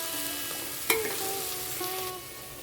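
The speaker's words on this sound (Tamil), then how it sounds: "இது நல்லா 1 மினிட் கொஞ்சம் ஃப்ரை ஆகட்டும்" Spices fry in oil in a pan for vegetable biryani, sizzling steadily, with a sharp clatter of stirring near the start; no voices.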